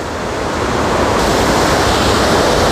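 Floodwater rushing at Wawa Dam after Typhoon Ulysses, a loud, continuous, dense roar of churning water heard close, with no pauses.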